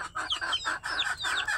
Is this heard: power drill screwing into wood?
no